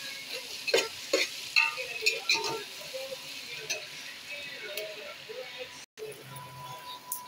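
Tomato and coriander stirred into a chicken biryani masala in a pan, with soft sizzling and repeated scraping stir strokes, fairly quiet, along with a short gap and light clinks.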